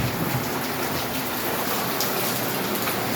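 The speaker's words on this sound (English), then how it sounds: "It's so rainy." Heavy rain pours steadily at night in a dense, unbroken roar with no voices over it.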